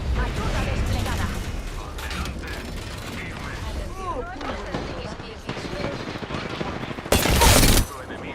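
Rapid bursts of video-game gunfire rattle through the mix alongside mechanical clicks, with a loud, dense volley near the end, all under ongoing game audio.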